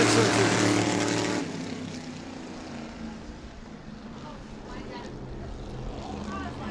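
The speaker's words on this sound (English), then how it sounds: "And here comes the field. Green flag is out" Race cars at New Smyrna taking the green flag in a heat race, a loud blend of engines roaring past close up, then easing into a steadier, more distant drone as the field pulls away, with a commentator talking over it.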